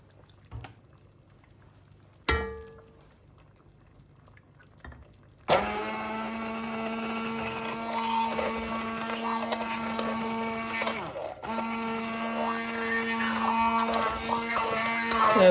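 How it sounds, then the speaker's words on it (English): A hand blender purées cooked pumpkin soup in a pot: a few knocks and clatters first, then the motor starts with a loud, steady high whine that continues unbroken, its tone shifting slightly as it churns. "I will blend it using my hand blender."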